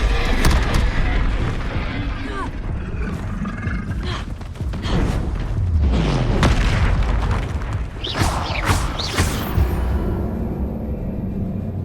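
A Confringo fire spell bursts in Hogwarts Legacy during a fight with Ashwinders: heavy booming blasts mixed with roars and grunts, loud and dense, with a sharp crackling flare near the end.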